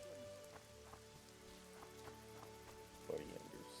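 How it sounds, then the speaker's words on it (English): Rain in the video game The Witcher 2 patters faintly and steadily on surfaces, with scattered drip taps under a low, droning game soundscape and brief talk near the end. "It's raining badly."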